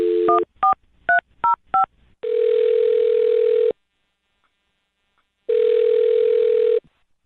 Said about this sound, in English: I'll dial her number right now, see if we can get her on the phone.